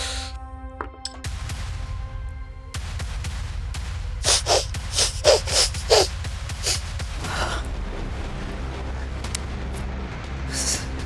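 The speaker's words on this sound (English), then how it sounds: "The audio listeners are just hearing like heavy breathing" Heavy breathing at a Pathfinder tabletop game session comes as a run of loud, rhythmic huffs and gasps in the middle, set against a steady low background hum and scattered faint noises.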